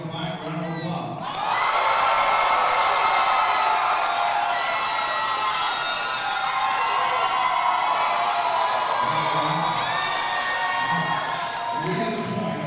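A fight-night crowd at an Elevate Fighting Championship MMA event bursts into sustained loud applause and cheering, with whoops rising over a dense roar that holds steady for about eleven seconds after a brief quiet start.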